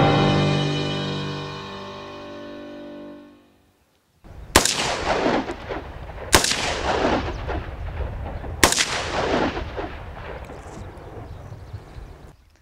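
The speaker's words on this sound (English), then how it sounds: "I'll be showing you the recoil effect of an AR-15" An AR-15 assault rifle fires three sharp, loud single shots outdoors, spaced about two seconds apart, each cracking and then decaying over a windy background, after a steady hum that fades to near silence.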